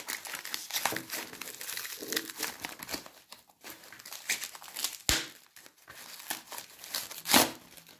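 A parcel of collectible Ukrainian badges being opened, with close crinkling and crumpling of plastic packaging in irregular bursts and a few sharper tearing rustles, and no talk.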